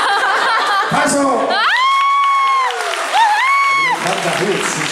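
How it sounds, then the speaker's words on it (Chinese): Audience applause at a concert by a band ahead of a Rukai song, loud, steady clapping with cheers that runs the whole stretch, while a bright voice carries over it. "拍手。"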